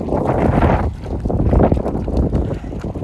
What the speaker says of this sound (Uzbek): Shamol ekan rosa.